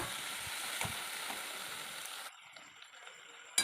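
Ground paste of cumin, mustard and poppy seed fries in a pan with a steady, close sizzle and a few stirring clicks, the sizzle dropping noticeably quieter partway through.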